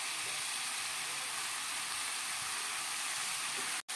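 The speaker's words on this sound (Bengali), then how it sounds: "দেখুন আমার কুমড়োটা কেমন ভাজা হচ্ছে।" Pumpkin frying in a pan for a vegetarian dish, giving a steady, close broadband sizzle that runs nearly unbroken before cutting off briefly at the very end.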